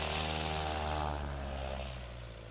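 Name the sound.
STOL competition airplane taking off or landing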